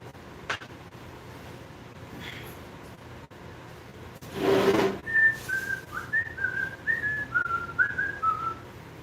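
A person whistles a bright, wavering melodic tune of several short rising and falling notes, close and clear, after a brief burst of noise.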